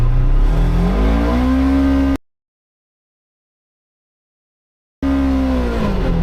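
An upgraded Polaris Xpedition side-by-side engine revs hard and loud up toward 8,000 RPM, its pitch climbing steadily, then cuts to total silence for a few seconds before the same rising revving resumes.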